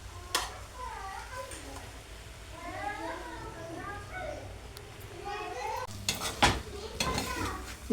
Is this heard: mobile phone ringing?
no